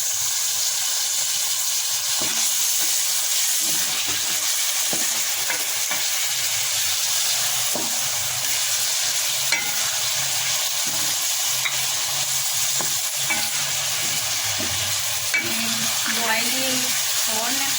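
Vegetables, including boiled corn and capsicum, fry in a pan with a steady hissing sizzle. Scattered stirring clatter is heard throughout, and faint voices may come through at times.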